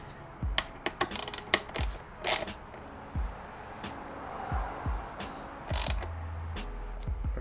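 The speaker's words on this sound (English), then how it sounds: "we're gonna wrap up the last screw and then put the seat on" Tool tightening the last screw on an Aprilia RS660, heard as quiet, close ratcheting clicks and metallic taps in irregular short bursts with small pauses between them.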